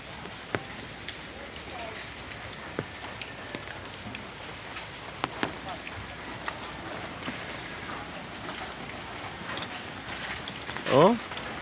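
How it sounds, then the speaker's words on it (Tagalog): Heavy rain pours down in Mariveles in a steady, dense hiss with occasional sharper drips and taps, continuing without pause throughout. "Grabe na yung ulan dito sa Maribeles."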